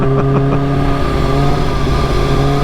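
A 280 hp Kawasaki H2 supercharged motorcycle pulls under power on a road, its engine a continuous, loud, close droning note holding a fairly steady pitch, with no voices.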